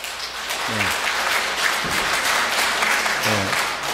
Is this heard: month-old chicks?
no